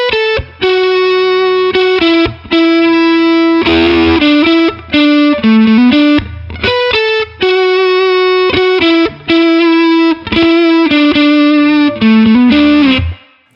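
Electric guitar single-note lines through a Mesa Boogie California Tweed overdrive pedal ring out thick and distorted, in sustained phrases broken by brief gaps, loud and alone.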